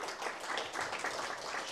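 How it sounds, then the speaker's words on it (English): Dense, steady applause from an audience at an Aus DeFi Association meetup in Perth, many hands clapping close by for a speaker for the whole short stretch. "everybody, round of applause for Charis"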